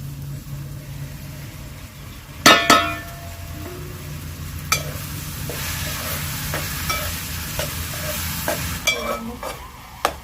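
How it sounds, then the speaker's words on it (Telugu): Drumstick, onion and tomato pieces sizzle in a pan while being stirred, with a clatter of pieces dropping in early on and then repeated spatula scrapes over a constant frying hiss. "ఉల్లిపాయలు ములక్కాయలు అయితే ఇప్పుడు టమాటాలు అయితే వేసేసుకుందాం టమాటా ముక్కలు అయితే వేసేసుకుందాం"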